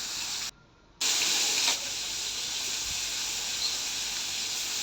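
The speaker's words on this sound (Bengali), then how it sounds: "সব চিংড়ি মাছগুলো দিয়ে দিলাম এখন একটু হালকা করে ভেজে নেব ওপাশটাও" Shrimp frying in a pan, a steady loud hiss and sizzle of hot oil broken by a brief near-silent gap, then continuing evenly with occasional soft pops.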